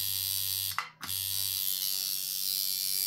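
A tattoo machine runs close by with a steady electric buzz, slowed by a dampener. It cuts out for a moment, then hums on evenly.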